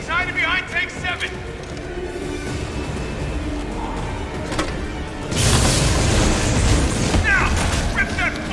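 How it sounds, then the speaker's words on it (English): Explosive rounds fire in the video game Resident Evil 3, with a heavy blast landing midway among game noise and a voice talking throughout. "I will use this explosive rounds here"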